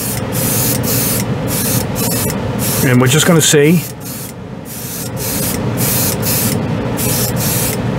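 Continuous hissing spray of an airbrush spraying Mr. Color White GX1 paint at 20 PSI, briefly paused while a person speaks, then resuming as a steady fine hiss.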